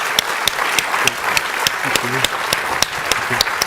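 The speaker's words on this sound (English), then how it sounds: "please join me in giving our guests a round of applause" An audience at an IET President's Address fireside chat applauds its guests: a dense, steady wash of clapping with a few sharper claps standing out, and faint voices murmuring beneath.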